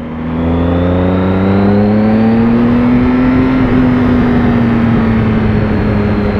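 A 2016 Triumph Speed Triple 1050R three-cylinder motorcycle engine drones loudly and close during a test ride, its pitch rising steadily as it accelerates, then levelling and easing slightly.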